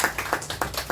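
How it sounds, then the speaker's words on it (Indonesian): A church congregation at Gereja Bethel Indonesia clapping hands together during a service, a quick run of about six fairly even, rhythmic claps, soft and somewhat distant. "Beri tepuk tangan buat Tuhan Yesus terlebih dahulu."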